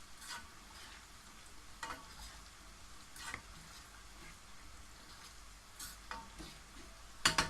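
A spoon stirs water in a pan for pasta carbonara, giving quiet scraping and swishing with a few sharper clinks against the pan, steady and close with no talk.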